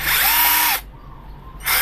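A BONCHI 28V cordless drill whirs in two short bursts, loud and close, with a silent pause between the high-pitched motor runs.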